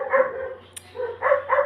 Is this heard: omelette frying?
no